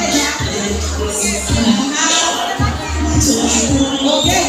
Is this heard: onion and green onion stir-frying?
no